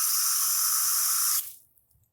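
Water rushes steadily from a garden hose into a planting dip, a loud continuous hiss that cuts off abruptly about two-thirds through, leaving near silence.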